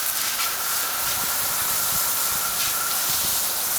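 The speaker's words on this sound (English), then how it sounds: "on the first watering, we like to use a fairly fine spray or shower." A fine water spray or shower watering a large ficus bonsai in its pot, heard as a steady, continuous close hiss with no pauses.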